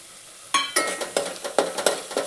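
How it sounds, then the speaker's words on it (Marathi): Red chilli powder, turmeric, pav bhaji masala and coriander-cumin powder are stirred in hot oil for street-style pav bhaji, a spoon scraping the pan in a rhythm of about seven sharp strokes over a soft sizzle. "हे सर्व आपल्याला तेल सुटेपर्यंत परतून घ्यायचे आहे."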